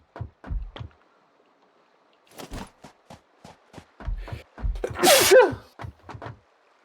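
A single sharp sneeze bursts out loud and close near the end of a stretch of quiet clicks and soft vocal sounds.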